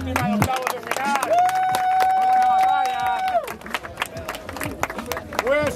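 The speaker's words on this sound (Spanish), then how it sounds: "Hay un aplauso aquí para la última" Applause and crowd noise at a freestyle rap battle round of sixteen, with clapping and cheering bursts alongside a sustained whistle-like tone and voices, loud throughout.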